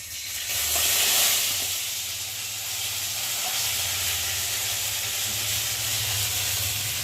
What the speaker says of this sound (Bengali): আর এখন বাটাগুলোর মধ্যে দিয়ে দেবো।